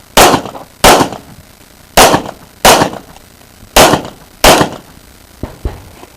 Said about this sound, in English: draw, fire 2 on each target, strong hand